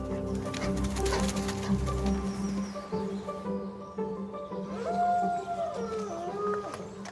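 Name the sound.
Arctic wolves howling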